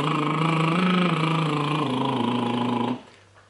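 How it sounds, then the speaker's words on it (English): A lip roll vocal warm-up exercise: a steady buzzing, voiced lip trill held for about three seconds, gliding slightly in pitch, close and fairly loud, then cutting off abruptly. "And they are called lip rolls and they sound like this."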